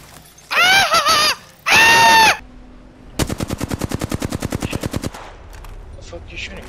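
Rapid automatic gunfire from Apex Legends, a steady burst of about twenty evenly spaced shots lasting roughly two seconds, loud and close, preceded by two thick harmonic tonal blasts in the game's soundscape, with no talk over it.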